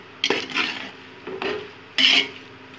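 Three short scraping strokes of a spoon stirring mutton biryani with mint in a pot, close and moderately loud, separated by brief pauses.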